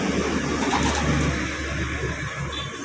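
Racing pigeons coo softly at their loft, the low murmuring calls partly masked by a steady background rumble from traffic or machinery.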